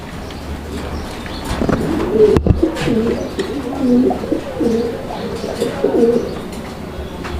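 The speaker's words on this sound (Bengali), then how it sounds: "আপনারা কবুতরটা দেখেন" Caged pigeons coo steadily in a rhythmic, overlapping series of low, throaty calls, close and clear, with faint scuffling in the background.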